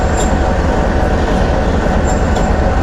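Khushhal Khan Khatak Express at Jahangira station platform, a loud, continuous low rumble of the train with faint metallic squeaks, steady and close.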